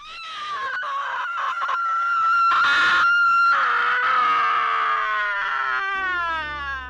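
A long, piercing scream with a wavering pitch, loud and close, rising and sliding before it breaks off near the end.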